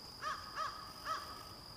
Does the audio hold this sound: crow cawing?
yes